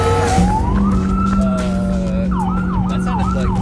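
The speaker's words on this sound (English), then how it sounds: "That sounded like sirens or something." A police car siren wails and yelps close by, rising into a steady tone and then cycling through rapid whooping sweeps, heard over the continuous rumble of a car cabin while on the road.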